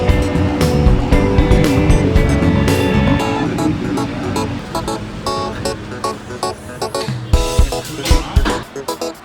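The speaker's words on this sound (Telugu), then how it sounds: "బ్యాక్గ్రౌండ్ ట్రాఫిక్ సౌండ్ అవాయిడ్ చేయండి." Busy street traffic in Pondicherry, a loud, continuous roar of passing vehicles and engines close by, with horn-like tones and road rumble throughout.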